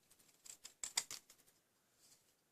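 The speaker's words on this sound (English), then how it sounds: "I just took my papers, my scissors, and cut into that" Scissors snip through card paper while a Halloween card is made, a short run of crisp, close cuts with a few sharper snips in the middle, then quiet.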